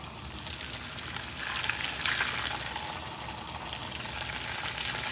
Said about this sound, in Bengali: তেল গরম হয়ে গেছে, কিছুটা ভাজতে দিয়ে দিয়েছি। এবার এক এক করে সব পিঠেগুলো এইভাবে ভেজে নেব।